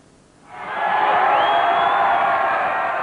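A crowd cheers at Paddy Ashdown's election campaign stop on a whistle-stop tour, rising quickly from quiet into a loud, sustained roar of whoops and shouts.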